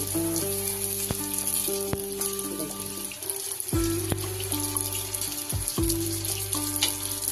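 Three fuchka puris fry in hot oil while oil is spooned over them, a loud continuous sizzle and bubbling close by, with no talking.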